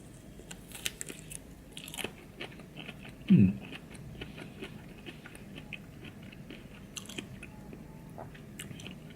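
A squishy, chewy exotic Vietnamese fruit, not fully ripe and with a stale-marshmallow texture, is bitten and chewed up close. The soft mouth sounds are quiet, with one louder crunchy bite partway through, over faint room noise.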